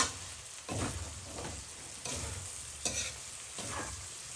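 Chili sizzles as it fries in a pan for tinausian, with a spatula scraping and stirring in repeated strokes over a steady close-up crackle.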